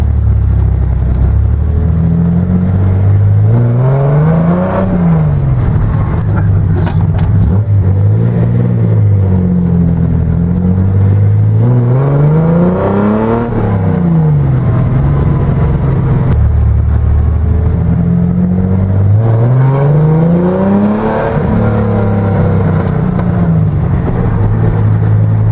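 A Datsun 240Z engine fitted with Weber 40DCOE throttle bodies runs loud and close with a vacuum leak, its idle surging up and sagging back down in slow, repeated swells.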